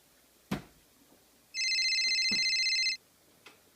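A telephone in a French-language stage drama rings once in a steady electronic burst lasting about a second and a half, with a few soft knocks before and after.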